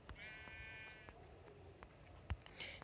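A Minecraft sheep lets out one clear bleat, followed by scattered clicks and small game sounds in the background.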